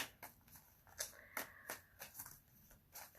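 Soft, rapid riffling and papery flicks of tarot cards being shuffled, repeating in quick bursts, close and fairly quiet with no talking.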